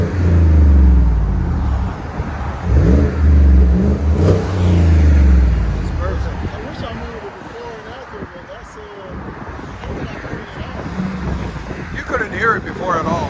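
A 2017 Chevy Silverado LT with a 5.3L V8, Borla Pro XS exhaust, stock resonator and 5-inch tip, rumbling loudly in deep bursts under wind buffeting, then easing to a lower idle while voices speak over it.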